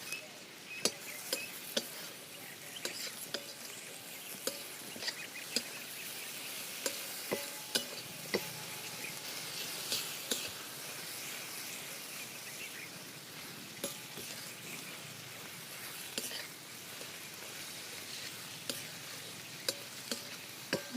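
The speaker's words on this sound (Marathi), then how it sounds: "आणि आपण टोमॅटो टाकून मी मला चांगलं भाजून घेते." Tomatoes roasting in a pan for a Marathi vegetable dish, a faint, steady sizzle with occasional soft clicks and stirring taps, running on for a long stretch without talking.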